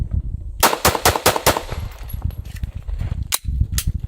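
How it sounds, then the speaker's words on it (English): A suppressed 9mm Glock 19 pistol fires at steel targets: a quick string of four sharp shots, then two more spaced reports a moment later, close and fairly loud, with no talking. "X16, in real life, this is actually just a 9mm Glock 19."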